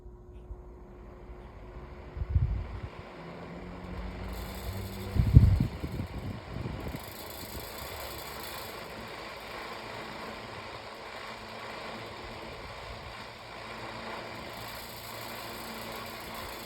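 A remade 6-inch antique electric fan starts up with a couple of knocks, then spins up to a steady motor whir with a persistent high rattle. It runs continuously and fairly close, with no talk.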